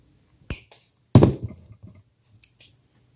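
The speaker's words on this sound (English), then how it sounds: "And then I'm going to cut the extra wire." Cutters snip excess jewelry wire in a couple of crisp, close clicks with small metallic snaps, separated by brief quiet.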